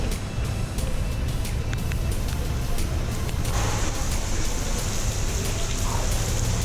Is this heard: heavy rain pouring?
yes